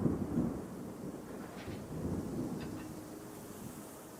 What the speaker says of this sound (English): There. I hear rains.